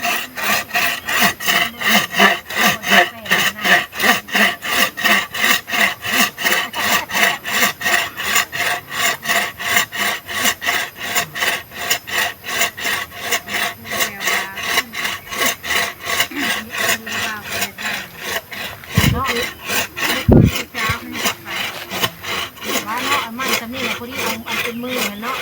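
A hand saw cuts through wood in steady rapid back-and-forth strokes throughout, close and fairly loud, with a couple of brief knocks near the end.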